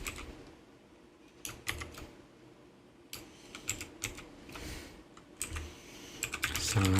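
Python code being typed on a computer keyboard, with close, crisp key clicks in irregular bursts separated by short pauses and a few heavier key strikes.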